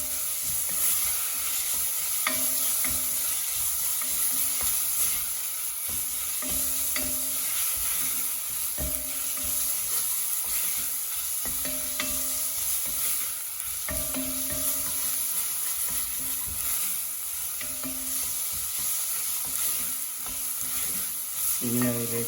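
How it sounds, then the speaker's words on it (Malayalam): Ginger garlic paste sautés in hot oil in a pan, a loud, continuous sizzle with repeated scraping strokes of a spoon every couple of seconds, heard close with no talk. "ഇനി അതിലേക്ക് ജിഞ്ചർ ഗാർലിക് പേസ്റ്റ് നന്നായിട്ട് വഴറ്റി കൊടുക്കുക."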